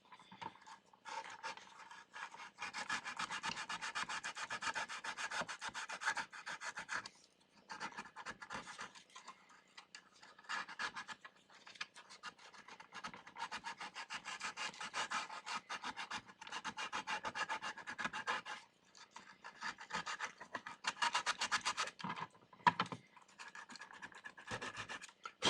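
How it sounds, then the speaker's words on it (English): A pointy hand file scuffing the plastic of an X-Shot Mega Eliminator blaster during paint prep, rasping in rapid close strokes that continue in long runs broken by short pauses. "I'll take my nice pointy file here and scuff up into these little spots"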